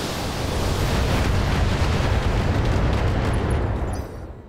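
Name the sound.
missiles exploding in BattleTech video game combat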